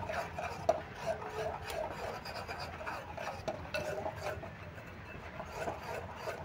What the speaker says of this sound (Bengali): এবার এই সমস্ত শুকনো উপকরণগুলো আমি একটু মিশিয়ে নিচ্ছি বেসনের সঙ্গে।